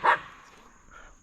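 A dog gives one sharp, loud bark close by on an outdoor trail, followed by a fainter, shorter yelp about a second later, with no talking.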